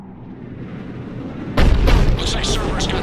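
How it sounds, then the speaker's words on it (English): A Cerberus cannon fires in Mass Effect 3, a sudden heavy boom that cuts through a steady rumbling battle ambience and then rolls on with crackling aftershocks. "Looks like Cerberus got that cannon operational"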